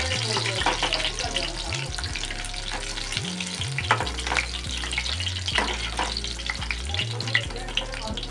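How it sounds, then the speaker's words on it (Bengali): Chicken pakoras deep frying in hot oil make a steady close sizzle with crackling bubbles, broken by a low hum and clattering stirs or scoops through the oil. "এইভাবে আমি সব পকোড়াগুলো এখন ভেজে নিয়ে আপনাদের দেখাচ্ছি"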